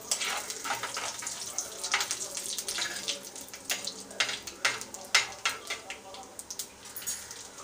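Urad dal dropped into hot oil with spluttered mustard seeds for arai keerai puli kadayal, crackling pops and bursts of sizzle over a soft steady fry, close and fairly quiet.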